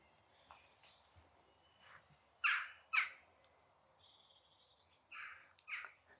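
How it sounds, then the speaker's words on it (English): A bird calls in an English garden on a June evening after heavy rain, several harsh separate calls, moderately near, with quieter calls between and no talking. "Sounds like a crow calling."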